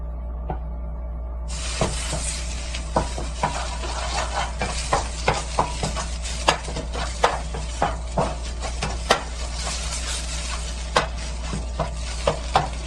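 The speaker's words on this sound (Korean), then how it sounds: "다음 표고와 소고기 볶겠습니다" Shiitake mushrooms and beef are stir-fried in a pan with a steady sizzle. A utensil scrapes and taps against the pan in a regular rhythm throughout, with no voices.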